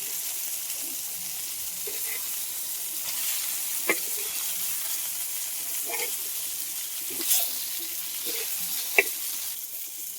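Mackerel frying in oil on a traditional village wood-fired clay stove, a steady soft sizzle with a few sharp pops and crackles, mostly alone at moderate distance.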